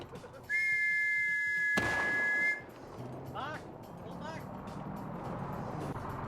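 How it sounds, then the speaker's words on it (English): A soldier in a wartime military video game blows a shrill, steady whistle for about two seconds, loud and sustained, over a sharp burst and ongoing battle noise with voices and rumbling vehicles around it. "Instead, he's blowing the whistle."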